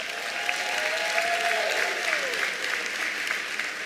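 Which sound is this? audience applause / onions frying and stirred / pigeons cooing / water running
audience applause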